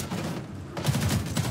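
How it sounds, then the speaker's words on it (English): Gunfire from the video game Homefront: The Revolution, a short flurry of rapid, rough blasts in close succession, fairly loud and continuous, with no speech over it. "I think you hear the gunshots from the game."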